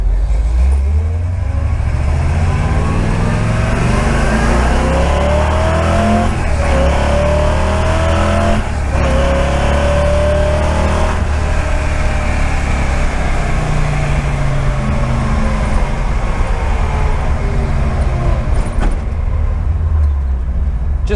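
A carbureted car engine revs and roars continuously up close, pitch rising and falling through several throttle pushes over a steady loud rumble.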